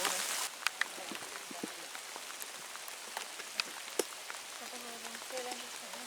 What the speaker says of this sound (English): As rain begins to fall